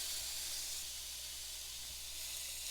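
Food sizzles on a non-stick indoor grill set to low heat, about 250 degrees, a steady broad hiss that stays even and unbroken, with faint low hum beneath and no talking.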